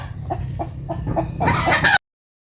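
Chickens cluck in a series of short, repeated calls nearby, growing louder and busier toward the end before cutting off abruptly.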